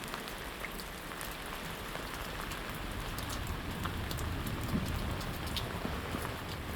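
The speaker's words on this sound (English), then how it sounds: "It's dumping rain right now." Heavy rain pours steadily at night in a storm, a dense continuous hiss of drops on surfaces with no talk.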